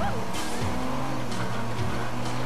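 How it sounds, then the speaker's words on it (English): Engine roar and tire squeal fill a car chase in the video game Watch Dogs, with loud continuous motor noise, pitch swoops and skidding screeches as the car crashes repeatedly. "Just crashing because I'm so bad at driving."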